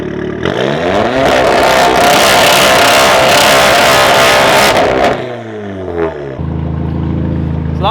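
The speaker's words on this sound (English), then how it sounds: "Now I'll show you how the launch sounds." A loud Volkswagen Golf R Mk7 engine holds at high revs on launch control, then launches and accelerates hard, pitch climbing through gear changes before dropping back.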